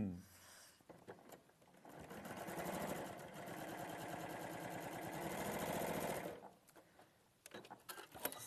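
Sewing machine stitching fabric at an angle: a steady rapid mechanical whirring and clatter for several seconds, starting and stopping, with light handling clicks before and after.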